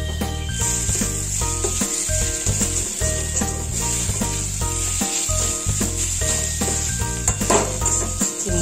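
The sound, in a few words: stirring bottle gourd curry with sugar in frying pan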